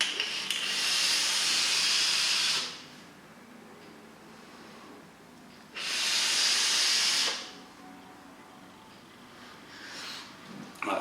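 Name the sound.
vapour hissing from Bullet RDA atomizer on mech box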